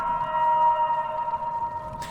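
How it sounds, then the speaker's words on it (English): A low, sustained keening wail rises from beneath the water, a steady eerie tone with layered harmonics that holds for about two seconds before a brief hiss at the end. "A low warbling that grew gradually louder and louder until it crescendoed in a shrill,"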